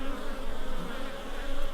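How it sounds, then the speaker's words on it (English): Honeybees fly in to a hive entrance in winter, some carrying pollen, making a close, steady, wavering buzz of several insects. "There are a few bees coming in with pollen on their legs."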